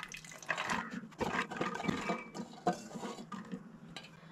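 Washed white peas tipped into a metal pressure cooker, a soft, faint rattle and wet clatter of the peas tumbling against the pot, close and brief, no talking.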